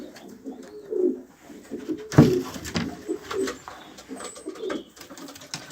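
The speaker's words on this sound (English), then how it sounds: "Lovely little pigeon." Jansen-strain racing pigeons in a breeding loft coo in soft, low, throaty bursts, several birds close by, broken once by a sharp bump or rustle of movement partway through.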